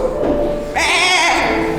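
One goat's bleat, a wavering nasal cry, rises loudly over a steady low background hum and ends with a trailing waver.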